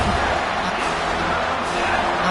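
Stadium crowd at a college football game, East Carolina, a steady broad roar filling the whole stretch, loud and continuous with no distinct cheers or voices standing out.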